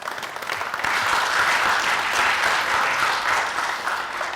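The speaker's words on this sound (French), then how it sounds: "Merci de l'applaudir." A studio audience on a French-language television variety show applauds a guest artist, a full, even wash of clapping that swells and holds steady for about four seconds.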